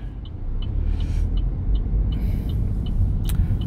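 A car pulling away during a road driving test, heard from inside as a low engine and road rumble that builds as it moves off, with a faint repeating ticking throughout and no speech.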